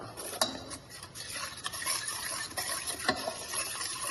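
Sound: stirring crushed Oreo into milk for pudding

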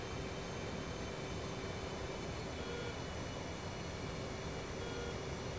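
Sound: F/A-18C Hornet jet engine throttling back, video game DCS World

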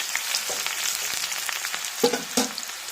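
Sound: chopped garlic frying in a pan for bitter gourd pickle

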